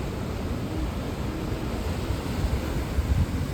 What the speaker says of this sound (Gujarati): જે તમને અવાજ આવતો હશે દરિયાનો